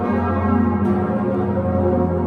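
Large cathedral church bell ringing with a clear, deep tone, its long sustained hum and rich overtones sounding loud and steady without any voices.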